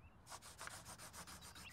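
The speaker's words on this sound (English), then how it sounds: "Or like pencils on paper?" Pencils scratching across paper, a steady run of rough rubbing strokes repeating in a loose rhythm, close and quiet with no voices.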